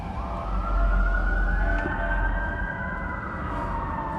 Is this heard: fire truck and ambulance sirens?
yes